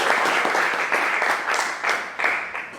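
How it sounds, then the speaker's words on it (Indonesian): Students in a classroom clap for their classmates, a steady burst of applause lasting the whole moment with a few sharper individual claps standing out near the end. "Tepuk tangan dulu untuk teman-teman kalian."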